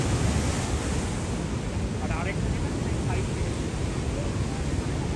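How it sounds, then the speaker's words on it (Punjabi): Rushing water near Vernal Falls in Yosemite Valley, a loud, constant broadband roar that fills the whole stretch and blends with wind buffeting the microphone. "ਪਾਣੀ ਨੇ ਪੂਰਾ ਖੜਕਾਟਾ ਮਚਾਇਆ"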